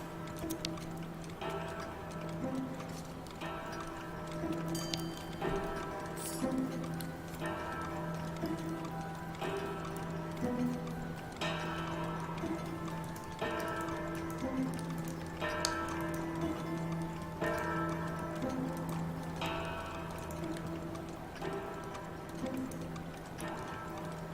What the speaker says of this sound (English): Cuckoo clock.